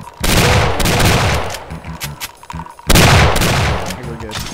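Heavy gunfire from a first-person shooter as enemies are shot in Doom 2, with loud dense bursts from the start, a brief dip near the middle, then another loud volley.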